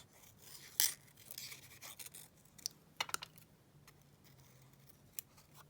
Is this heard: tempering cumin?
no